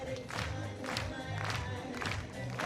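Crowd cheering and roaring through a tense recurve men's team gold-medal archery final between Turkey and Ukraine at the Berlin World Cup, a steady loud wash of voices with repeated surges of shouts.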